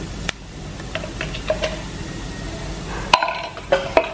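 Potato roast with pepper powder being stirred in a pan, a spoon scraping and clinking against the metal in scattered strokes with a light sizzle underneath, close and moderately loud, no talking.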